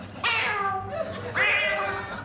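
Two drawn-out meows, close and fairly loud, from a person imitating a cat with the voice while meowing to a cat, each rising and then falling, about a second apart.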